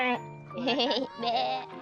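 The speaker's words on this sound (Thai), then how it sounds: "แกะอยู่ข้างในรั้ว" Sheep bleating inside a fence at an animal club in Khao Yai, two wavering, harmonic bleats close by and fairly loud, separated by a short pause.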